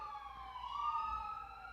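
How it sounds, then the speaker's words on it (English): Emergency siren wailing at moderate distance, a steady rising-and-falling tone that swells slightly then holds, with faint road rumble beneath. "I just heard a siren"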